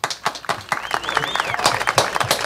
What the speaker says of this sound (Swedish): Ge dem en applåd för det.